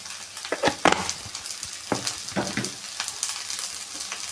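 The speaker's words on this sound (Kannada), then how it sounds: "ಸ್ವಲ್ಪ ಫ್ರೈ ಮಾಡ್ಕೊಳ್ಳೋಣ ಒಂದು ಅರ್ಧ ಮರ್ಧ ಫ್ರೈ ಮಾಡ್ಕೊಳ್ಳೋಣ" Leftover bonda frying in a pan with a pinch of turmeric, giving a steady close sizzle with scattered stirring scrapes and clicks throughout, no voices.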